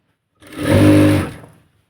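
A sewing machine runs in one short burst of stitching on salwar lining, rising quickly to a steady whirring hum for roughly a second before winding down, close and fairly loud with no talk.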